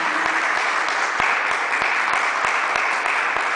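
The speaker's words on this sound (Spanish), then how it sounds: "Aplaudile fuerte a Jesús." Church congregation applauding loudly and steadily, a dense wash of clapping throughout with regular rhythmic claps punctuating it, no voices.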